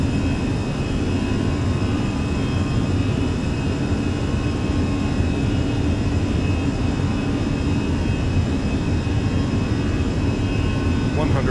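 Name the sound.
Fenix A320 jet engines at takeoff power, Microsoft Flight Simulator video game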